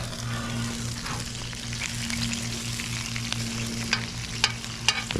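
An American wagyu steak sears in a hot pan with a steady, close sizzle over a low hum, and a few sharp pops near the end.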